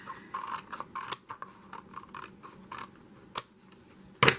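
Scissors snip and trim paper pieces for an autumn journal page, giving a few crisp, close cuts spread out over quiet handling noise, with a sharper cluster of snips at the end.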